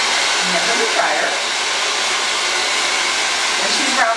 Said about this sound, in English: So I'm going to put the dryer back on.